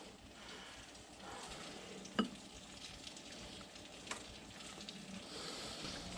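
Perch eggs and sunfish frying in a pan, a steady low sizzle with a faint crackle and a couple of sharp utensil clicks, no talking.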